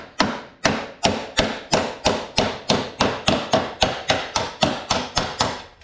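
Fast, regular series of heavy lump hammer blows on a car body panel, about three per second, loud and close with no talking.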